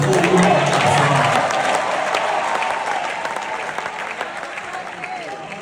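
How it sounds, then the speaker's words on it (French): Young audience at a cultural and arts centre applauds loudly with scattered cheers, the clapping dense at first and slowly thinning over several seconds, with some voices mixed in. "Ensemble, on encourage par nos acclamations"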